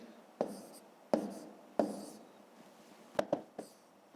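A pen writes out a division calculation on paper in a handful of short, close scratching strokes separated by brief pauses, faint and unhurried.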